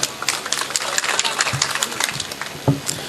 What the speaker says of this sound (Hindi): जोरदार तालियों से इस्तकबाल